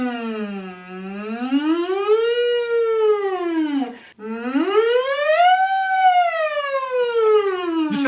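A voice imitates a siren by buzzing through a straw, making two long, smooth wailing glides that rise and fall, loud and close.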